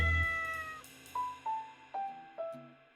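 A cat meows in a string of four or five short calls, each a little lower in pitch than the one before, fairly quiet and heard alone.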